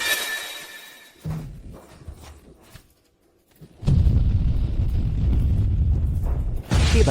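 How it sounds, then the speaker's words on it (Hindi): A huge nuclear bomb blast in a sandbox video game, with a sharp onset, a deep sustained roaring rumble for several seconds and a second surge at the end, loud and alone, no talk. "ये तो परमाणु बम है।"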